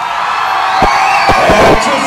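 A crowd of team supporters cheers and shouts in a loud burst, with a few sharp yells and whoops rising over steady background noise.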